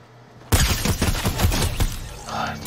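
Rapid gunfire from a weapon in a multiplayer video game match, a sharp burst of repeated close shots over about two seconds that trails off into softer game sounds.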